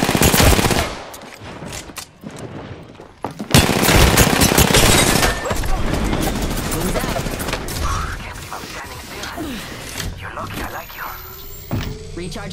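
Rapid gunfire bursts and weapon clatter from the video game Apex Legends, dense and loud at first, then a sudden sharp burst followed by scattered shots and mechanical clicks, with in-game voice callouts over the action.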